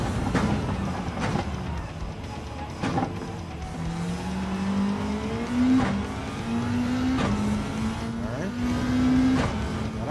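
A race car engine drones steadily in Gran Turismo 7, its pitch rising and then dropping sharply at each upshift, repeated several times over a continuous loud roar with occasional thumps.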